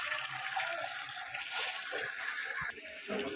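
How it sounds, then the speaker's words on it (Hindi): Water runs from a tap into a large cooking pot at home, a steady hissing gush that shifts in pitch as the vessel fills, moderately quiet and with no talking over it. "पानी फटाफट भर लेते हैं इसे"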